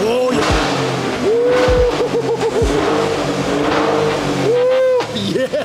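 A Maserati with new Corsa mid pipes, set in GT mode, revs repeatedly, its loud exhaust rising and falling in several sharp bursts close by, while a person exclaims over it.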